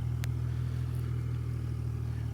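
A New Holland TT50 tractor engine idling nearby, a steady low diesel rumble with an even throb and one brief click early on, with no talking.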